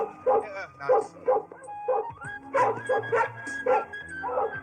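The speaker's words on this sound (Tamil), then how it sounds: "புது நாய் இழுக்குது யாருக்கு கட்டுப்பட மாட்டேங்குது" A new dog barks and yips in quick repeated bursts, close and fairly loud, with whimpering tones mixed in over a steady rhythm of short yaps.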